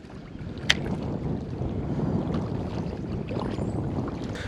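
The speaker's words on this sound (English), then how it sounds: "Strong wind. Doubt you can even hear me right now." Strong wind buffets a GoPro microphone outdoors on the water while fishing, a steady loud rumbling roar filling the whole clip with one sharp knock near the start.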